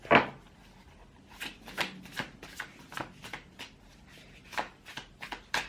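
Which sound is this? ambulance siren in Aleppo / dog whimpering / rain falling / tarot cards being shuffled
tarot cards being shuffled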